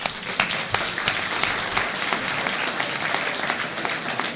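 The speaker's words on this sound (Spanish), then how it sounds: "Un fuerte aplauso para él." Audience at a tribute evening in Catalonia honoring Ramón Carnicer breaks into steady, dense applause that carries on evenly throughout, with no voices over it.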